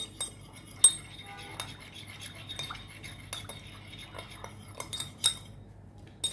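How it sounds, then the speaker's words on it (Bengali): A small spoon stirs aloe vera gel and sugar together in a bowl for a homemade lip remedy, making soft scraping sounds with scattered light clinks against the sides. "ভালো করে মিশিয়ে নিতে হবে"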